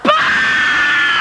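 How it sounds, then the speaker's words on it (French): A woman's loud, sustained scream bursts out alone, shouted to wake a sleeping person during a French comedy sketch, holding steady at full volume for over a second. "on le réveille à 3 et on crie"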